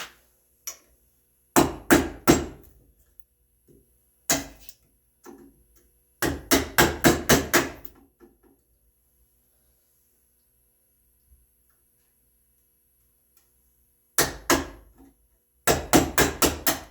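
A sharp chisel takes quick little bites from a red oak tenon, rapid bursts of crisp woody taps and chops in clusters of three to six, separated by pauses of near silence.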